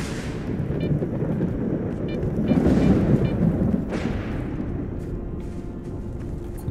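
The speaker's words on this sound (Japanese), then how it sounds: "すごいね、雷が。" Rolling thunder in the S.T.A.L.K.E.R. 2 game world: a sustained low rumble that swells around the middle and carries a couple of sharper cracks, with no talk over it.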